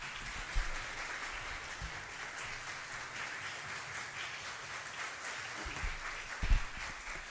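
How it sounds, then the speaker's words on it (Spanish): Audience applause welcoming a speaker at a public event on international organizations and local governments, steady diffuse clapping throughout at moderate level with a few louder bursts, no talking. "pedir un caluroso aplauso de bienvenida"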